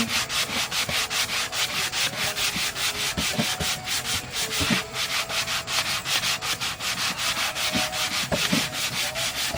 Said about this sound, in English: if I'm going to sand by hand, I have to pay attention to the direction of the grain